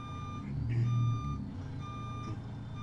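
A truck with a Detroit Diesel 60 series engine in American Truck Simulator, a Kenworth W900 at Grand Canyon Village, idles with a steady low rumble while a repeated reversing beeper rings out over it, no talk.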